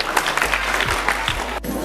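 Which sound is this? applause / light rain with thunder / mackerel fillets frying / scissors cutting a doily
applause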